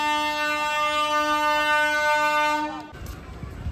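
A long, loud, steady horn blast from a train arriving at Sausar railway station, Madhya Pradesh, held for nearly three seconds before cutting off into low rumble and station noise.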